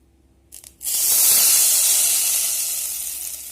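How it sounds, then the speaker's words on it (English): After a couple of small clicks, a loud burst of sizzling hiss erupts as hot oil is poured onto tandoori paneer and baby corn tikka batter, then slowly eases while staying strong. "The sizzling sound should be heard, getting the tandoori flavor now."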